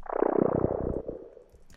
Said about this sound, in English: And then I added an auto filter that is automated to sweep down the audio